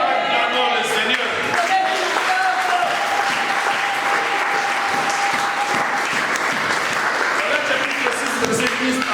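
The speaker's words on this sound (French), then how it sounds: "Acclamons le Seigneur." A church congregation at a Sunday service applauds, sustained loud clapping from many hands filling the room, with voices mixed into the ovation.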